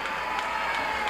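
Wrestling crowd at a women's bout cheering and applauding steadily, a dense, continuous roar with scattered louder bursts, no speech.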